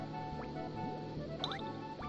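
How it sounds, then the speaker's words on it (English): Bubbles popping in a video game, a quick run of light bright pops and dripping blips, close and moderately loud, arriving faster toward the end. "Oh, they're starting to pop really fast now."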